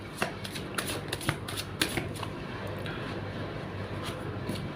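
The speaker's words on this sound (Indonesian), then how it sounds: "Langsung saja saya shuffle kartunya." Tarot cards being shuffled by hand make quick, crisp riffling bursts in an irregular rhythm over a faint background hum, close and fairly quiet.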